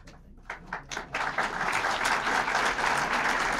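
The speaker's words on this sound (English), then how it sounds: "Enthusiastic as you are, could you hold your applause till the end, please?" Audience applause at a presidential rank awards ceremony with Ronald Reagan, 1988, starting as scattered claps and swelling into steady, dense clapping from a sizable crowd.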